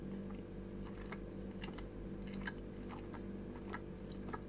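A Soreen malt loaf bar is chewed close up in a quiet room. Soft, squishy, rhythmic chewing runs steadily throughout with no talking.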